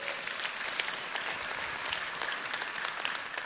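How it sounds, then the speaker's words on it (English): Faint, continuous applause from an audience at a business lecture, an even wash of many hands clapping with no voices on top. "Yes, applause is called for."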